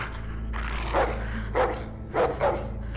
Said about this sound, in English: It's the puppy!